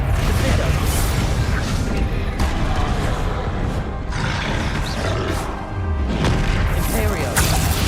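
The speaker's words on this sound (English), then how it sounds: "Bombarda!" Explosive blasting from a Bombarda spell in a Harry Potter Goblet of Fire video game: loud, dense booms and crashing bursts with roaring rumble throughout, mixed with chaotic combat noise.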